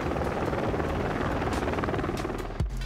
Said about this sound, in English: In the sky, it's a helicopter.